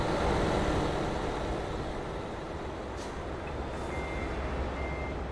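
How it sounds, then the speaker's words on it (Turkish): A Volvo FM/FMX truck in Euro Truck Simulator backs up, its reversing beeps sounding faintly over a steady, loud engine rumble that holds throughout. "Böyle geri dışarıya doğru çıkartacağım arabayı."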